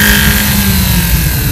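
An Audi 1.8T engine revs in second gear, throttle rolled on gradually toward 6000 RPM. It makes a loud, steady, close engine roar with a dense drone throughout.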